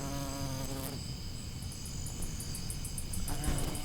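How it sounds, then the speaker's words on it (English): A massive horsefly buzzes steadily around a blanket shelter at night, a continuous close drone that shifts slightly in pitch as it moves, heard alone without talk. "there's this massive horsefly just buzzing around"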